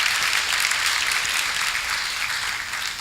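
An audience at the State of Downtown Kenosha 2019 event in Kenosha, Wisconsin applauds: dense, steady clapping from a large crowd fills the room at an even level before easing slightly at the end.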